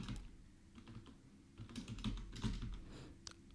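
Typing on a computer keyboard while entering text in an Excel spreadsheet, a quiet run of irregular close key clicks and taps.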